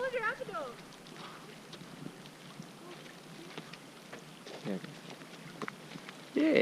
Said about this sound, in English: Started to rain, and it's you can see it's sort of peppering the lake at the moment.